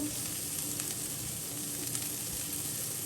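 Continuous crackling sizzle of two chilies frying in hot oil as a tempering, steady and close, with no voices.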